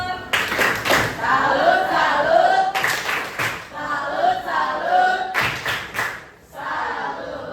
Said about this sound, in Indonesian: beri tepuk salut untuk Fatur.